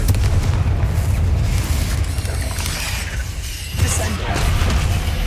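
Fiery Confringo spell blasts in the video game Hogwarts Legacy, a loud, continuous rumbling boom with a dense low roar, briefly easing before surging again near the end.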